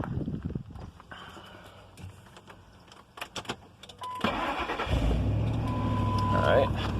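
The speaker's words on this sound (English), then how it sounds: "start up your vehicle." A 1997–2002 Ford Expedition or F150 engine cranks and catches, then settles into a steady low idle that holds to the end, preceded by a few clicks and handling noises.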